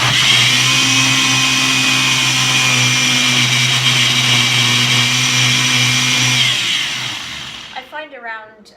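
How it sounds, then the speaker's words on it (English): A Ninja blender whips wet seitan ingredients, a loud steady motor whir held for about seven seconds before it cuts off, followed by a brief voice. "I have a Ninja, you may have a Vitamix or some other kind of blender. Any kind of blender will do. And you're just gonna whip it up."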